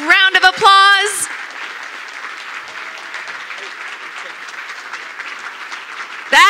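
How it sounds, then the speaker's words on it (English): An audience gives loud, sustained applause at a community business event, several seconds of dense, even clapping, with a voice briefly at the start and the end. "let's give him a big round of applause"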